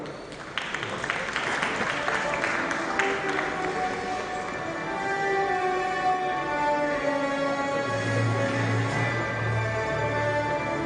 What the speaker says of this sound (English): Please give us a round of applause, gentlemen.